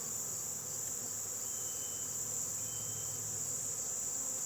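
Honey bees in a queenless hive box full of nurse bees give off a steady, even buzzing drone with a high whine on top, constant and unbroken throughout.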